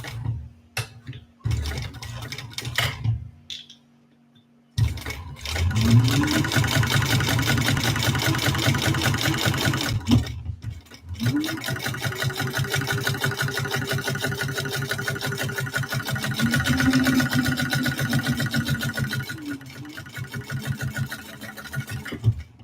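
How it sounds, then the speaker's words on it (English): A sewing machine stitching a seam on a fabric bowler bag, running in long steady bursts with brief pauses between, its fast mechanical whir loud and close. "now we're going to sew that down with the seam allowance in the pattern"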